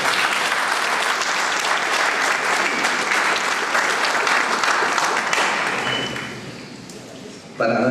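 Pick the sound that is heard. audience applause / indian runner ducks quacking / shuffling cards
audience applause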